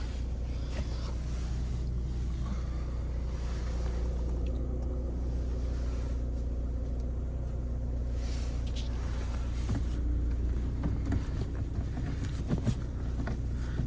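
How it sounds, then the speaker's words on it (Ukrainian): A 2016 Renault Scenic engine, started at once, idles in a low, steady rumble continuously with faint wind-like noise over it, no voices. "Заводиться автомобіль з півоберту"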